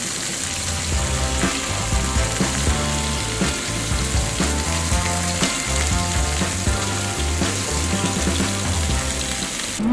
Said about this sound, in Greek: Και ροδίζω το κρέας γύρω-γύρω από όλες τις πλευρές.